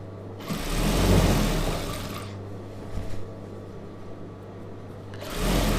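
Close, continuous whirring of a sewing machine stitching chudidhar fabric, starting after a brief pause and easing off near the end before resuming.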